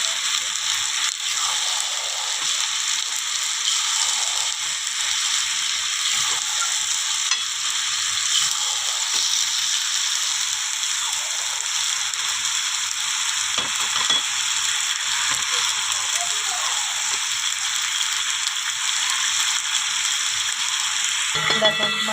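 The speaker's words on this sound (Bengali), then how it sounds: "দেখো মাংসটা কষানো হচ্ছে, আর একটু কষানো হবে" Pieces of marinated mutton frying in mustard oil in a pan, giving a steady, loud, continuous sizzle and crackle that never lets up, with occasional faint stirring.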